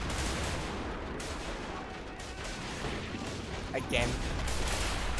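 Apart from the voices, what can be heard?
gunfire in a WW1 video game, Bois le Pretre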